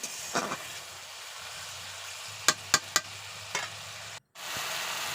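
Masala spice paste fries in oil in a pan with a steady, close sizzle, broken by a few sharp stirring clicks and scrapes and a brief gap before the hiss resumes.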